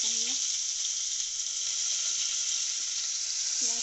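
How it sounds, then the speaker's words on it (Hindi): Finely chopped onion frying in oil after cumin, a steady close sizzle filling the whole stretch with a few faint stirring touches. "प्याज को अच्छी से भूनूंगी"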